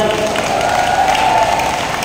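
A church crowd at a Christian fellowship service claps together in a steady, dense burst of applause that fills the short stretch without pause.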